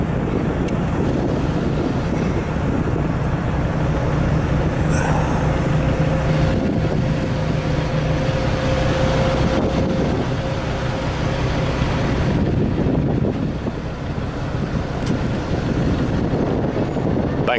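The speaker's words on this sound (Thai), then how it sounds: "ไปกันต่อครับเรือเริ่มออกแล้วครับเรือออกแล้วครับ" A ferry pulls away across Songkhla lake, its engine a steady, loud drone beneath heavy wind buffeting the microphone and rushing water, holding constant with no talking.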